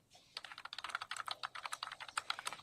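Rapid, steady typing on a computer keyboard in a courtroom, many fast key clicks in a continuous run, faint and close without talk.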